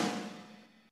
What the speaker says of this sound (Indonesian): Pertama-tama ketuk secara bersamaan snare dan close hi-hat.